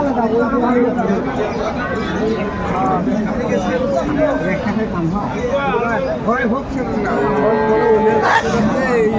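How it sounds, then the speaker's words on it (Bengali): Cows with calves lowing amid a noisy crowd at a cattle market, with people chattering and talking throughout; the moos are partly buried under the steady babble. "বেশ সুন্দর গাভী বাছুর"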